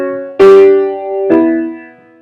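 A quartal melody played on a keyboard, two loud struck chords about a second apart, each ringing and decaying, close and alone.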